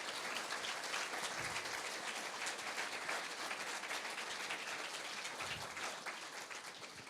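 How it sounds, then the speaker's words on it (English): An evening event audience applauds its speakers, a dense, even wash of clapping that holds steady at moderate volume throughout the stretch, with no voices rising above it. "let's give a big round of applause again for our speakers for tonight."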